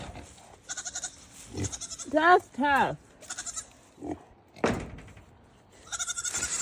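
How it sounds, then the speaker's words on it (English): Goats bleating on a wet, rainy farm homestead, two loud close bleats in quick succession in the middle, with someone talking before and after amid soft background noise. "The goats are crying."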